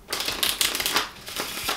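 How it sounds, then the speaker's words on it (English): A deck of playing cards is shuffled by hand in a close, crisp flurry of rapid riffling bursts, with a brief pause midway before the shuffling resumes. "I'll give them a mix, make sure they're well and truly shuffled."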